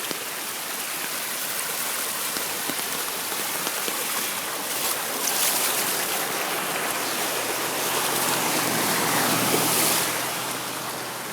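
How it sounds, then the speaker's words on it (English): Heavy rainwater rushing down a street like a waterfall near a bus stop, a loud, dense, continuous roar of pouring and splashing water, swelling slightly toward the end. "The street's acting like a waterfall."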